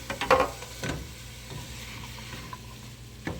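Chopped onion sizzling in a pot with hamburger meat for taco stew, a steady close frying hiss with a few clattering stirs and scrapes near the start and end.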